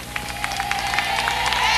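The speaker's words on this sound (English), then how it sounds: "the crowd is now cheering vociferously, cheering the pontiff who has been awaited for so long" A crowd awaiting the pontiff cheers and claps at a large outdoor gathering. A steady wash of applause and distant cheering builds slightly under a faint voice.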